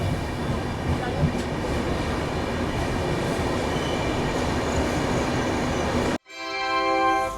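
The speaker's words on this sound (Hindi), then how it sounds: "जो हमारी ट्रेन कोटा जंक्शन पहुँच रही होगी।" Train noise at Kota Junction railway station as the Trivandrum Rajdhani Express arrives, a steady loud rumble of rolling stock for several seconds that drops away abruptly near the end before a new sound rises.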